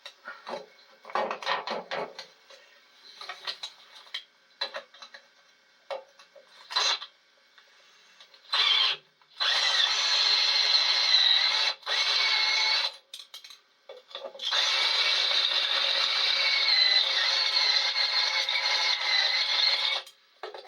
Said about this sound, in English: Okay, I got the drill out here and some bits.